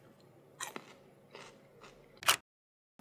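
Someone bites into and chews raw cucumber close up, giving a few separate wet crunches spaced across the moment, ending in one loud, sharp crunch before silence.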